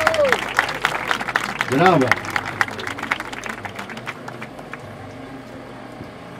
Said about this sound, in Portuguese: Salva de palmas, rapaziada!